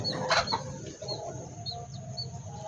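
Free-ranging chickens and Basilan-sired chicks cluck and peep nearby, with thin high chick cheeps repeating over a soft, low farmyard background.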